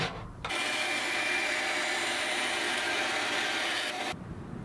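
A steady, continuous cutting noise runs for about four seconds, harsh and buzzing like a power saw slicing through a wooden guitar fretboard, then cuts off abruptly.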